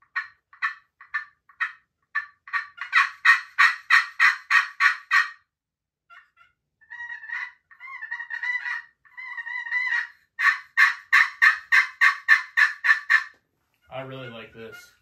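A Phelps Game Calls turkey call imitates a throaty old hen, giving loud, close runs of rapid yelps in rhythmic bursts separated by short pauses and softer clucking purrs, with no voices.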